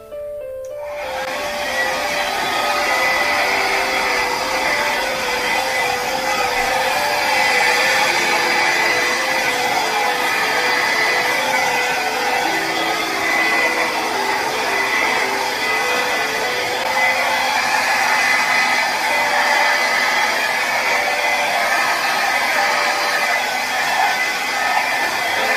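A hair dryer switches on and blows steadily at an acrylic paint pour, a loud continuous whooshing hum close by with slight shifts in pitch as it moves, running alone throughout.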